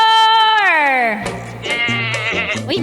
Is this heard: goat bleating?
yes